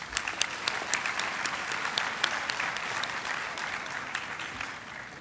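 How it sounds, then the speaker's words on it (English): Applause for supervisors at a university graduation ceremony, a steady crowd of hands clapping throughout, dense and fairly close, with no voices over it. "Let's give them a round of applause"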